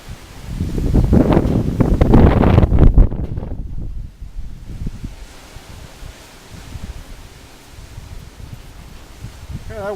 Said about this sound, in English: that wind's kind of shoving me around a little bit, actually